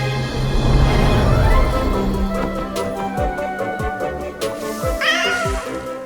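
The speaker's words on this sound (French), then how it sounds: "Miaou, miaou, miaou!" A cartoon cat meows several times in a row, with bright, swooping cries over a busy music-and-effects background and a final cluster of higher, wavering mews.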